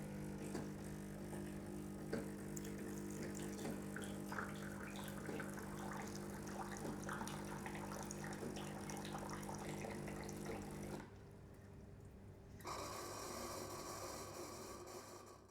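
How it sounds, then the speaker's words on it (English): Hot water dispensing from a Decent espresso machine, a steady rushing pour with low pump hum that runs evenly, drops briefly to a quieter hiss, then resumes at full strength. "When I tap the hot water button, I'll be given 150 grams exactly based on the scale of 50 Celsius water"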